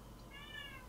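A single faint, short cat meow heard far off beneath a low hum of background noise.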